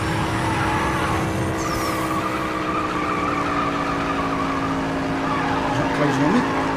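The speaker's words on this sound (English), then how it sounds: "And do some drifting." Car drifting with screeching tire skid in the racing game Need for Speed No Limits, a sustained engine drone with tire squeal running steadily and loudly throughout, and a few brief higher squeals toward the end.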